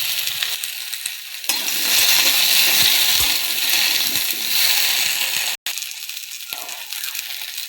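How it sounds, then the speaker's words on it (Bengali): Chal kumro bori fry with vegetables in a pan, a loud hiss that swells after a scrape and a stir, with occasional knocks and a brief cut before the sizzling resumes more softly. "বড়িটা সবজির সঙ্গে ভেজে নেব।"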